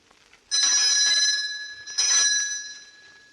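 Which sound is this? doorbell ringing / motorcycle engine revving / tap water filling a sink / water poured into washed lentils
doorbell ringing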